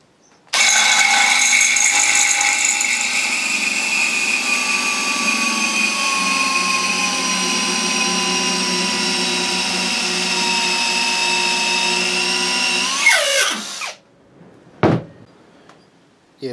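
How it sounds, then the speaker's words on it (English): A power drill with a homemade swaging bit expands the end of aluminium pipe salvaged from a perimeter fence, a loud steady whine running unbroken for about thirteen seconds, then slowing and stopping, followed by a couple of brief clanks. "using my homemade swaging bit that I made earlier on, I'm now going to swager the end of the pipe or expand it so I can join it."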